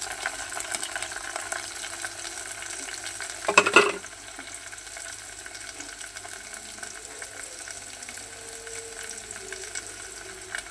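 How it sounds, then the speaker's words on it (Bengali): Onion fries with whole garam masala spices in a pan, making a steady close sizzle, with a brief loud burst of hissing and clatter around the fourth second as something is added, then settling back to an even frying hiss. "এই যে পেঁয়াজটা আমি ভাজা নিছি। এখন এই যে গরম মশলাগুলো দিয়ে দিতেছি"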